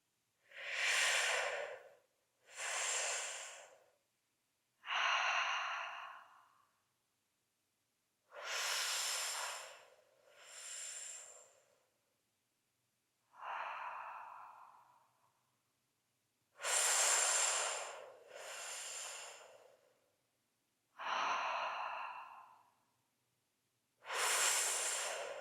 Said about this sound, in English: we're just going to breathe in this way.